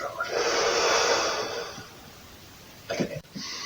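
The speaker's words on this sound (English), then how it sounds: "And breathe out." A person exhales deeply during a stretching exercise, a long breathy rush of air for over a second, followed by quieter snorting breaths and throat noises near the end.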